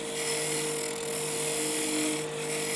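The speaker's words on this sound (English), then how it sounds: "I'm going to go back to my 1 1/4 inch roughing gouge and start shaping the" A 1 1/4 inch roughing gouge cuts wood on a spinning lathe while a whiskey tumbler is turned, giving a continuous loud scraping hiss over a steady motor hum.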